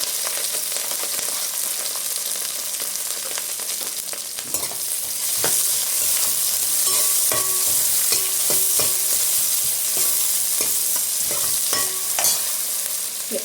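Onions and green chillies frying with spices in a pot for egg biryani, a steady loud sizzle that intensifies midway, punctuated by repeated scraping and knocking of a stirring utensil, with no speech.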